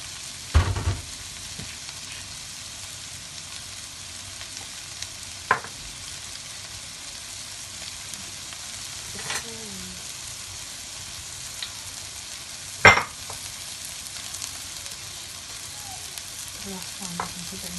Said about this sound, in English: And now in goes with the okra.